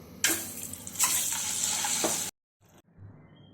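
Eggs drop into a pan of hot oil with a little turmeric and set off a loud, bright sizzle. The sizzle runs steadily for about two seconds, then cuts off abruptly and leaves a few faint clinks and quiet frying.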